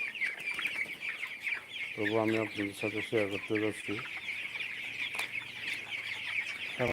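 Broiler chickens cluck in a run of rapid close calls on a crowded poultry farm, with general flock noise throughout and someone talking over them.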